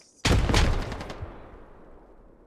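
Grenade blasts in a video game about Australian infantry fighting insurgents at close quarters: a sudden loud explosive burst followed by a long rumbling decay, close and alone.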